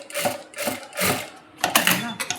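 A sewing machine stitches fabric in short bursts, a close mechanical whirring and clatter that starts and stops several times with brief pauses between runs.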